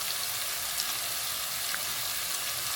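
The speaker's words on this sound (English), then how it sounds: "So we'll saute these down" Parsnips saute in a pan for kinpira, giving a steady, soft broadband sizzle with a faint watery hiss and occasional small pops, continuous and fairly quiet with no voices.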